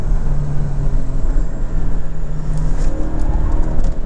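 A 2024 Porsche 718 Boxster Style Edition, the base model, drives on the road, its engine a loud steady drone under road and wind noise with no talking.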